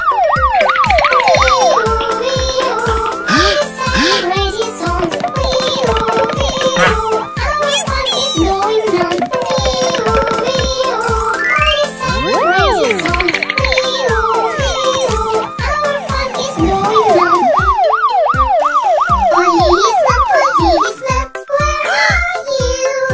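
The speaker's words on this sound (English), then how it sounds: "It's a siren, it's a siren." A toy button sounds a wailing siren that sweeps up and down continuously and loudly, mixed with a cartoonish song, children's voices and rhythmic beats throughout.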